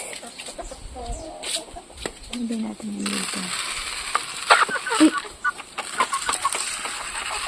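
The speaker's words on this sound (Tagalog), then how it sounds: "Magpapakain tayo ng manok. Kasi ayan sila, nag-aabang na sila." Farm chickens waiting to be fed cluck and call near and far, with sharp clinks and rustling around them, while a person talks briefly over the noise.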